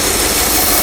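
A 1959 Mercury Monterey V8, revived after sitting for a decade and hesitating under throttle, gives a loud, steady, close-up engine roar through a short burst of gas with no talk.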